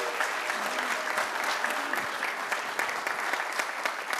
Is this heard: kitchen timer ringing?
no